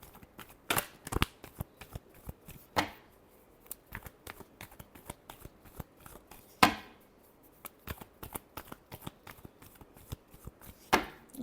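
Tarot cards shuffled by hand in a series of quiet riffling bursts and sharp flicks, some louder snaps standing out, with no talking over them.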